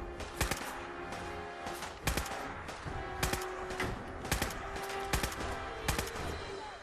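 A machine-gun sniper rifle firing in Fallout 4, loud sharp shots repeating at a steady rhythm of roughly one every half second to second over a constant background hum.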